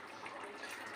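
A small pour of water into a pan of cooking meat, a steady close hissing splash for under a second with no voices.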